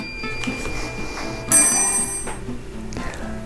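A telephone with caller ID rings once in a room, its bright electronic ring standing out clearly before the background settles again.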